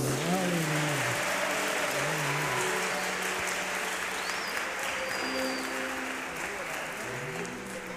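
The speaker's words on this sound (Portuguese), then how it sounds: "Então palmas para Jesus." A church congregation applauding during a Catholic service, a dense, sustained clapping that fills the space and tapers slightly toward the end, with voices calling out over it.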